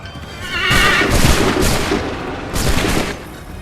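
A loud musket volley in Assassin's Creed III, with a burst of massed gunfire followed by a second rolling wave of shots amid battlefield noise.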